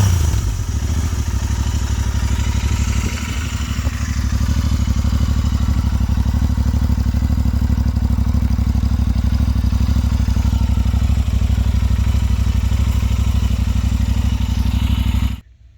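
A Royal Enfield Interceptor idles through an aftermarket AEW muffler with the dB killer fitted, a loud, close, even twin-cylinder putter with light mechanical clatter that keeps running steadily before cutting out at the end.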